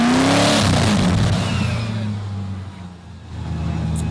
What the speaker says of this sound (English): the Swedish-built Koenigsegg, the fastest production car in the world